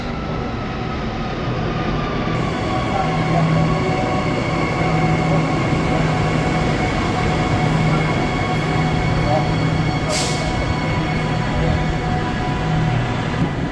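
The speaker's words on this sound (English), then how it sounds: "Comes the train, 90 at the front." A Transperth suburban train rumbles steadily and loudly past at close range into an underground station, wheels grinding on the rails with a brief high squeal partway through.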